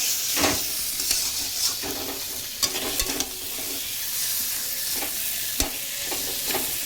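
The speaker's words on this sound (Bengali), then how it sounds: "হলুদ গুঁড়ো এবার আমি ভালো করে ভাজা ভাজা করে কষিয়ে নেব কচুটাকে" Taro stir-fried with turmeric powder in a pan gives a soft background sizzle, broken by sharp scrapes and knocks of a utensil stirring at irregular intervals, with no talking.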